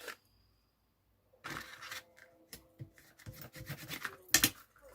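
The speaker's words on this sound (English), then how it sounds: "now I'm going to just go over that with my bone folder to make sure the glue is well spread" Bone folder rubbing and pressing over a glued paper milk-carton votive holder, giving a series of close scraping and rasping strokes of varying loudness after a brief quiet start.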